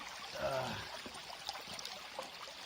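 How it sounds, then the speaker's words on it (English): Gravel and water wash steadily through a bigger gold sluice in a continuous rushing trickle, with small clinks of stones, close by and fairly quiet. "Already just got the bigger sluice and just putting it straight through the sluice."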